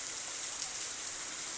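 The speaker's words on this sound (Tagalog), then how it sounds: "Lakas ng ulan." Heavy rain pours down beside a house during a dark, stormy spell, making a dense, even hiss with no breaks or individual drops standing out, steady and fairly loud throughout.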